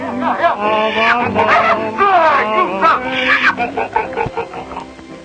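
A voice imitates hogs grunting and snorting on an old radio western show, a rapid series of loud, close nasal grunts and squeals that tail off near the end.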